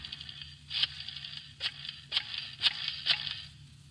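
A telephone is dialed in a 1950 NBC radio crime drama: a sequence of five crisp, evenly spaced clicks and brief rattles over a faint, steady background hiss.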